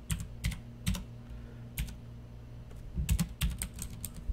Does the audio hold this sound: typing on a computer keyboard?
yes